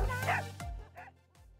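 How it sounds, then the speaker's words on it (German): Dogs barking on a rural road during a long-distance bike race across the Balkans, several close yapping barks in quick succession, loud and alone. "Ein bisschen Action mit Hunden war auch mit dabei"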